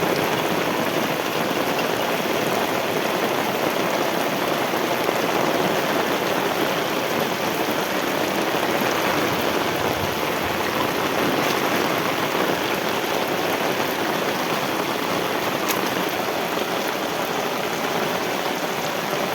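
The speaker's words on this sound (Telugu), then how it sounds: "తీరా చూస్తే వర్షం వచ్చేసింది" Steady rain falls outside a house with dishes set out, a dense, even hiss that holds constant throughout with no voices.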